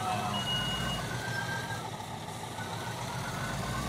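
A truck reverses in a construction simulation video game, with a steady electronic reversing beep sounding over a low engine idle rumble throughout.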